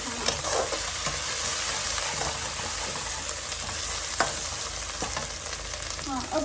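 Onions sizzle steadily in a hot pan for a home-cooked spiced dish, a close, continuous crackle with occasional sharper pops and faint stirring scrapes.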